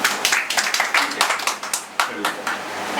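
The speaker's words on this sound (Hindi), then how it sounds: "एक बार जोरदार तालियां" An audience at an industrial visit claps in loose, uneven bursts of separate hand claps, close and moderately loud, with voices mixed in.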